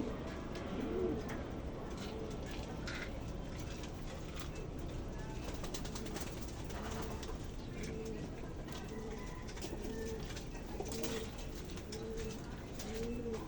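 Pigeons cooing in repeated soft, rounded calls at an even pace through the whole stretch, over a constant background rumble with occasional faint voices.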